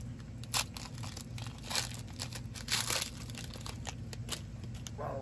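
Soft, close crinkling and tearing of foil wrappers on 2019/20 Panini Mosaic basketball card packs, in short irregular bursts at low volume, with no talking.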